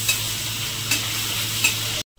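Ginger-garlic paste fries in a pan with a dense, steady sizzle close by, punctuated by three brief stirring scrapes at even intervals, then the sound cuts off abruptly.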